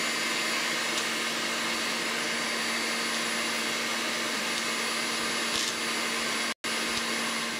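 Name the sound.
electric mixer whipping egg whites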